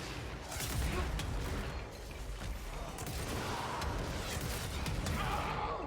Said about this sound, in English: that secondary explosion is actually really good